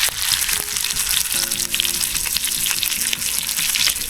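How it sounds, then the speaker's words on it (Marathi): Fish frying in a pan outdoors at night gives off a loud, continuous crackling sizzle, close and steady throughout, with faint tonal hum beneath and no talk. "इकडं बघा मित्रांनो मस्त फ्राय होते"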